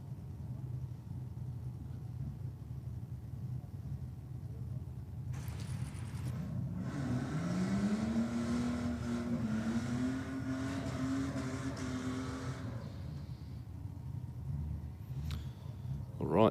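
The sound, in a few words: drag race car run at Sydney Dragway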